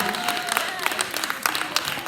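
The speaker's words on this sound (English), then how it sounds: "Give the T-Tampa Dance another round of applause, please." Audience applause for the T-Tampa Dance group at the 2019 Liberian Girls Rock event, a steady wash of clapping lasting a couple of seconds, moderately loud, with some talk mixed in.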